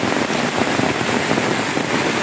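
Heavy rain pours down steadily outdoors near woods, a dense, loud hiss of drops drumming on surfaces with no break.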